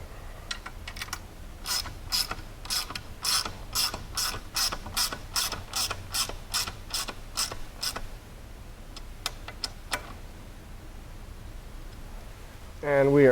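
Bolts on a 2020 Polaris General being snugged down with a hand ratchet, a close, rapid run of crisp clicking strokes followed by a few slower, sparser clicks.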